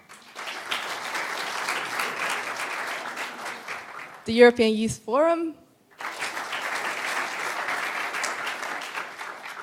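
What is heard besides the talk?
conference audience applauding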